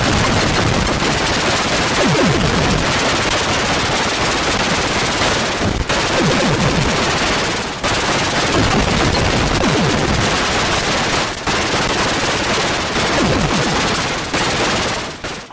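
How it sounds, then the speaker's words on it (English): Rapid shooting and explosions from the 1986 Firebird Atari 8-bit shoot-'em-up Warhawk make a loud, dense, continuous barrage of noisy blasts with brief dips every few seconds and no speech. "Warhawk, the 1986 Firebird game, is a screaming, particle-emitting, wickedly fun explosion generator of a game"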